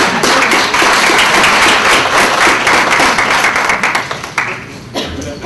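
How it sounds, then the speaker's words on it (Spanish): Audience applause welcoming a speaker at the opening of an academic seminar, a loud close burst of clapping that fades out over about five seconds. "Aquí le damos un aplauso y nuestra bienvenida."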